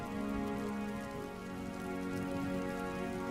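Steady, dense rain pours down in a continuous wash of noise on a stormy night, with drops pattering on surfaces. It sounds close and even throughout, with no voices.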